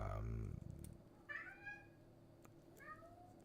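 A cat gives two faint, rising meows in a quiet indoor space, the first following a brief, dull, low thump.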